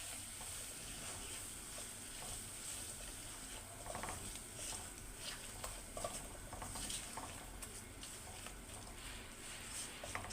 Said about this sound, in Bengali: এখন আমি এটাকে ভালোভাবে কষিয়ে নেব।